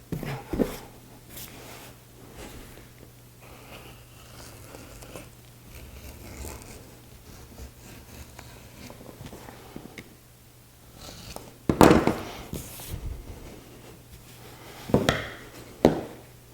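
A rotary wheel cutter rolling through fabric for a pattern-free homemade backpack, giving soft scattered scraping passes under a steady low hum, with a few sharper loud handling thumps and rustles near the end.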